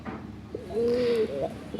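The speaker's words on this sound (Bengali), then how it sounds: "এখন দেখতেছেন একজোড়া অসাধারণ গোল্লা কবুতর" A pair of big Golla pigeons, a male and a white-breasted female, give a single soft, drawn-out coo up close over light background noise.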